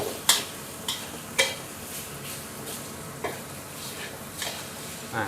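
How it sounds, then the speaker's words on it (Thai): Pork stir-frying with curry paste in a pan over lowered heat: a soft, steady sizzle broken by several sharp scrapes and clinks of a spatula against the pan, with no talking. "ลดไฟนิดนึงก่อน ผัดจนเนื้อหมูเริ่มสุกก่อนนะครับ"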